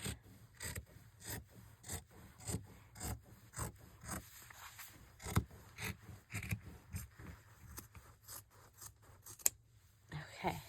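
Scissors cut through quilt fabric for a lap-quilt junk journal cover, producing close, steady, rhythmic snips that repeat for about ten seconds.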